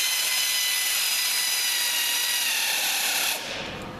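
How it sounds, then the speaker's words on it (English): Air ratchet driving a fastener during assembly of a Sterling pro assist, a loud continuous high-pitched whirring buzz that runs for over three seconds before cutting off sharply, leaving a quieter hum. "Air ratchet again."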